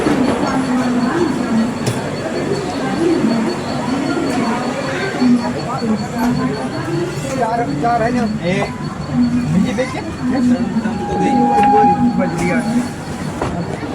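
The Konkan Kanya Express pulls out of platform 10 on its Mumbai to Goa run, with a steady rolling rumble and a brief high wheel squeal near the end, while a voice talks over the noise.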